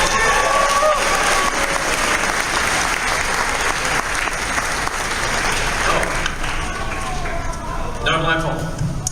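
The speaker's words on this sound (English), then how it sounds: "Come on, guys, applaud for him." At a BronyCon convention, a crowd breaks into sustained applause with some cheering, loud and continuous, while voices talk over it near the end.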